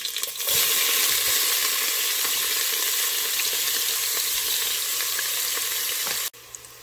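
Chopped onion frying in hot oil with salt, a loud, steady sizzle close up that runs unbroken for several seconds before cutting off abruptly.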